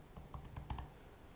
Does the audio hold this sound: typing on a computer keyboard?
yes